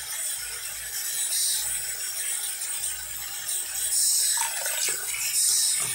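Water runs and splashes from a tap in a steady hiss, with small drips and trickles over something close by.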